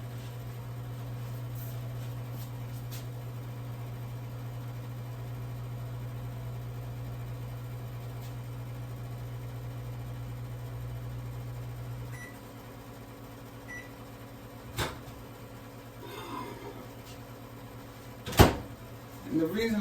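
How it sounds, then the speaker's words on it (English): Microwave oven melting butter on the defrost setting hums steadily for about twelve seconds, then stops, followed by a few clicks and knocks of the door or cupboard and faint kitchen sounds. "it'd be good to put it on defrost when you're melting the butter, because in that microwave"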